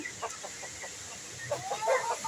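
Native Peruvian chickens, large birds, clucking in a series of soft close calls, with a few louder higher-pitched clucks toward the end over a quiet farmyard background.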